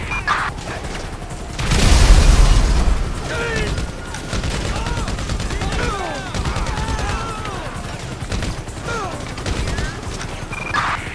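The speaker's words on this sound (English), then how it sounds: "Shots fired at an officer on Crusade Road." A shoot-out in the video game Grand Theft Auto V, with bursts of gunfire and crashing impacts over a continuous noisy backdrop, a loud surge near the start, and shouting voices mixed in.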